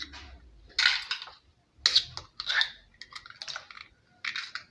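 Beaten egg being whisked in a bowl, short bursts of bright clinking and scraping separated by brief pauses, close and moderately loud.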